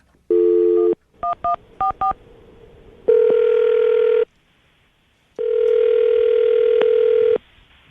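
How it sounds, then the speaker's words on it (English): A landline telephone call being placed: a brief tone, a quick series of touch-tone dialing beeps, then two long ringback tones, clear and close with no talk. "All right, I'm going to call it right now, man."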